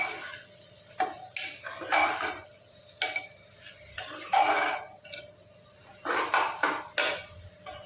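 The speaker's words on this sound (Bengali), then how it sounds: "এবার ভালোভাবে মিশিয়ে নিচ্ছে।" Lentil dal with Malabar spinach, potato and sugar being stirred in a pot, with repeated scraping spoon strokes and clinks against the metal, steady and close.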